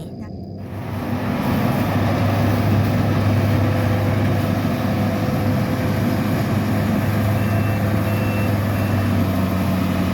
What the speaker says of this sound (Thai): รถเกี่ยวข้าวก็จะเกี่ยวข้าวนะคะ เป็นรูปทรงสี่เหลี่ยมนะคะ วนไปเรื่อย ๆ จนจบแปลงนี้นะคะ